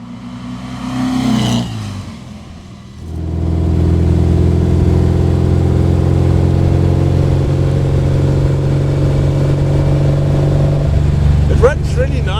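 A 1955 Porsche 550 Spyder replica's engine drones steadily at cruising speed after a brief rise and dip, loud and close, with a higher revving burst near the start and a short rattle at the end.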